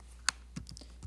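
A few faint clicks of keys being pressed on a computer keyboard while a formula is typed into a spreadsheet, one crisp tap followed by softer quick strokes in a quiet room.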